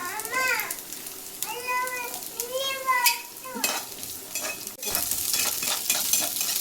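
Onion frying in a pan with green chillies and garlic for mutton leg soup: a continuous sizzle with stirring scrapes, with a wavering voice-like sound over the first half before the frying takes over.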